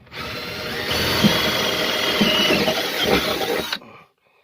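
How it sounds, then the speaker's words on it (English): A power drill bores holes during an on-board heater repair, a loud, steady whirring run of about three seconds close by that stops abruptly, followed by silence. "drill a few holes in here"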